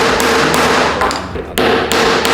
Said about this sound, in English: punch all the necessary holes so that we can add our swivel hook on